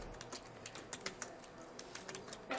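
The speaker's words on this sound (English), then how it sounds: "Sorry, I was typing." Someone types a password on a computer keyboard, a quick irregular run of light clicking keystrokes close by, soft and alone with no talking.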